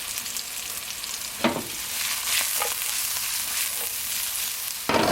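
Sliced mushrooms frying in a hot pan for a vegan omelette, a steady close sizzle with a few sharper crackling bursts.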